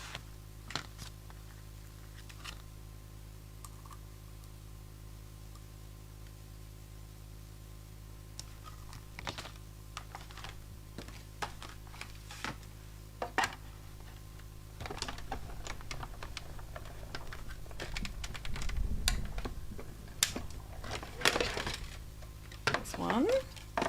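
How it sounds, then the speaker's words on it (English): A die cutting machine cuts paper ornament shapes, heard as a run of sharp mechanical clicks and taps. They grow busier and louder toward the end over a steady low hum, with no talk. "grab my die cutting machine again,"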